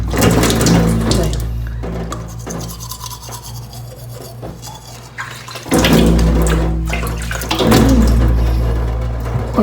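Tap water runs loudly and close in a morning bathroom routine while teeth are being brushed, a steady rushing flow that dips briefly in the middle and then surges back up.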